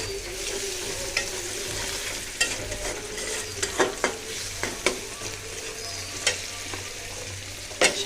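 Onion fries in a pan with a constant close hiss, punctuated by scattered scraping and clinking as it is stirred, with no voices.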